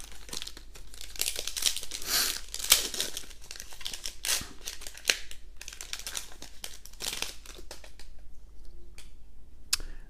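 Magic: The Gathering Ultimate Masters booster pack foil wrapper being torn and crinkled open by hand, a close series of irregular crackling rips and crumples.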